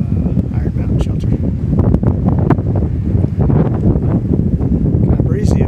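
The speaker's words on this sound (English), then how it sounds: "Nice cool breeze blowing up the mountain." Steady cool breeze blowing up a mountainside near a shelter on a long hiking trail, a constant loud rush of wind buffeting the microphone with rustling throughout and no break.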